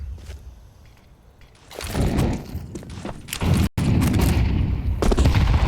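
Grenades and utility exploding in the video game Counter-Strike during an IEM Katowice 2025 match, heavy booms and bursts building from faint ambience into a loud, dense barrage with a brief cut near the middle.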